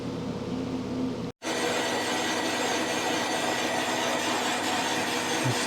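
A boring bar cuts a Yamaha CT-3 motorcycle cylinder on a machine, a continuous hissing grind that stops for a split second, then resumes steadily at an even level.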